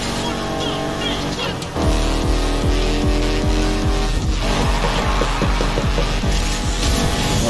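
A race car in the video game Need For Speed Heat roars loudly, its engine dropping sharply then rising again in rapid repeated gear-change sweeps, with a voice talking over it.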